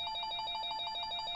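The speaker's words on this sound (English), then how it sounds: "I was worried that we were gonna have a phone call of some sort during the podcast, and then make that annoying ringtone." Electronic phone ringtone chirping in a fast, even pulsing pattern, bright and steady, close and alone for a moment with no talk.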